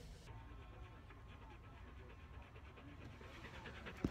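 An Australian Shepherd pants steadily in quick rhythmic breaths, close by and quiet, with people talking in the background.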